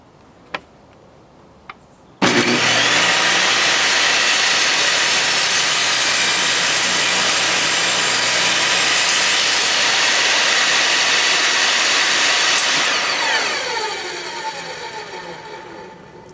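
Vevor 10-inch portable table saw ripping through 2-inch thick white oak: motor starts abruptly, then a loud, sustained cutting roar for about ten seconds before the blade winds down, with no talk.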